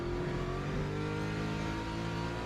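A BMW race car in Le Mans Ultimate drones with a steady, loud engine note under throttle, its harmonic whine holding nearly constant pitch, with no talk over it.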